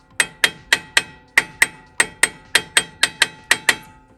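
A steel hammer strikes the cone washers on a Toyota FJ45 solid front axle about fourteen times in a steady rhythm. Each blow is a sharp, close metallic clang that rings briefly before the next.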